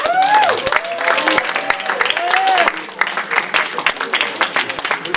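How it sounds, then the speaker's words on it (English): High school story slam audience applauding the teachers in the room: lively clapping with shouts and cheers on top, the voices fading and the claps thinning toward the end. "Let's give the teachers in the room a round of applause."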